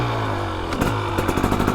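A 2023 KTM 300XC two-stroke motorcycle with throttle body injection runs steadily, its rough, buzzing engine note rising slightly with crackly throttle blips, close and loud with no talking.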